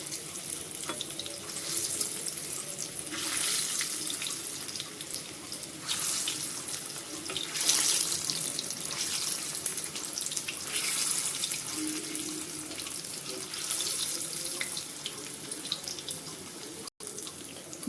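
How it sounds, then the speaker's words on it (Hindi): Jackfruit kofta balls fry in oil over a medium flame, giving a continuous, even sizzle and crackle that swells and eases now and then, close and steady throughout. "मीडियम फ्लेम पे इनको उलटते पलटते हुए हम फ्राई कर लेंगे"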